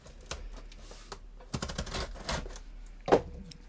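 Knife slitting heavy packing tape on a shipping box, a series of quiet scratchy, papery rips and taps in short bursts, close and faint, with one sharper snap near the end.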